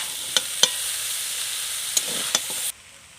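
Chicken chow mein noodles fry in a kadai wok with a steady soft sizzle and a few sharp clicks of the spatula stirring, cutting off abruptly near the end.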